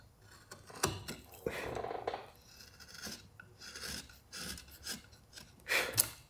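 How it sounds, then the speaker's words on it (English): A carving tool rasps along the edge of a wooden heart, bevelling it in short, uneven strokes with pauses, close and fairly quiet. "We just going to bevel that edge."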